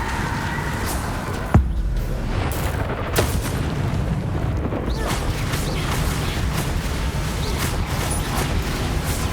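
Spell-combat explosions from Hogwarts Legacy, with the Bombarda blast spell: a sharp boom near the start and another shortly after, over a steady mechanical rumble and scattered crackling impacts.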